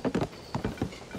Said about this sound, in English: I forgot about my horse.